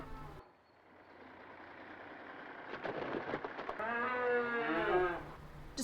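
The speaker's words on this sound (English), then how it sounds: "Despite the cows shouting their warnings to the poor child" Cows in the 1977 public information film Apaches let out a long, loud, drawn-out moo that rises and bends in pitch over a low hum, standing alone after a quieter start.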